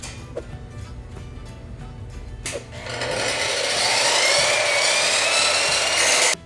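A power tool cuts through metal at a 45-degree angle on a Jeep drivetrain build, with a loud, harsh, high-pitched whine that starts abruptly midway and holds steady before cutting off.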